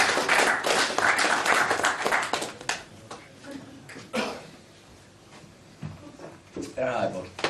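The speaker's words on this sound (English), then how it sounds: "Give him a round of applause." Scattered clapping from a small class group at an NLP and hypnosis practitioner course greets a volunteer, loud at first and then thinning into a few claps and rustles, with voices talking over it.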